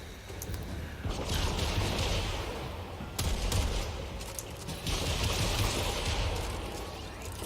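Side guns fire during a Warframe Empyrean demo: dense, continuous volleys of booming game gunfire with sharp bursts layered over rumbling explosions, loud throughout and with no talking.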